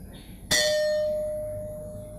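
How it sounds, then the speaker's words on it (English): A megalithic stone is struck once with a sharp clang, then rings on like a bell in a clear, steady tone that slowly fades over two seconds. "You realize that this thing really rings like a bell and it reverberates for quite a long time."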